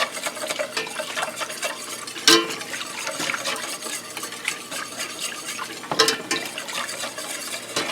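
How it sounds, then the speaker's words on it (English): A utensil stirs flour and milk into a cream gravy in a pan, giving a steady soft scraping and swishing with faint sizzle throughout and two louder clanks against the pan. "I'm going to mix this well to incorporate the flour in there"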